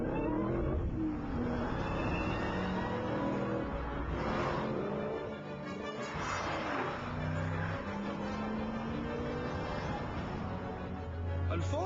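A supercharged Vauxhall VXR500 accelerates hard in first gear with a rising engine roar, heard from outside at moderate distance, someone speaking over it at times.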